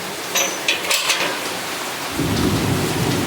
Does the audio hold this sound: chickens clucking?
no